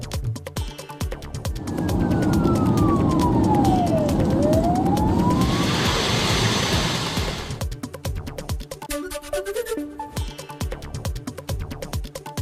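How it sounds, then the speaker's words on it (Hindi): An air raid siren wails across Vinnytsia, Ukraine, its pitch sweeping down and then rising again in a long loud tone over a few seconds, with traffic and street noise around it before and after. "यूक्रेन के विनित्जा में फिर बज रहा है हमले का सायरन"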